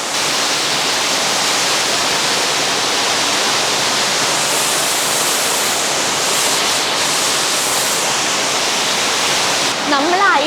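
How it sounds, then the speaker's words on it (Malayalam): Water pours steadily into a waterfall inside the St. Beatus Caves in Switzerland, a loud, constant rushing roar filling the rock cave throughout. "ഇതാ വാട്ടർഫോളിലേക്ക് ഒഴുകുന്ന വെള്ളമാണിത്"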